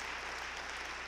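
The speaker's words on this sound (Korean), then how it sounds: "다시 한번 뜨거운 박수를 보내주시기 바랍니다" Congregation applause at a church service dedicating donated stained glass: a brief, faint, steady wash of many hands clapping, heard from a distance with no voices over it.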